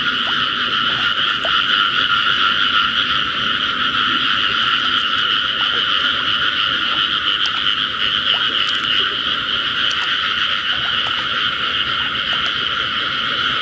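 Frogs croak continuously in a dense nighttime chorus in a field, steady and fairly loud, with insects faintly underneath and no voices.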